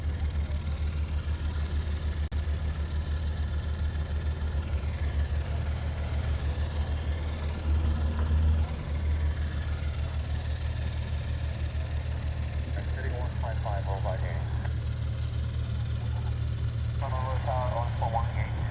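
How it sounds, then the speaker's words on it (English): A Dash 8-300 turboprop airliner departing Honolulu airport gives a steady, loud low-pitched engine drone that holds throughout with little change. "it's a Dash 8 300"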